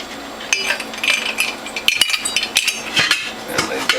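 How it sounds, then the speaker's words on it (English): Three or four ice cubes clatter and clink into the feed tube and cutter of a juicer, a series of close, sharp irregular knocks. "feed in some ice cubes to cool down the cutter and the feed tube"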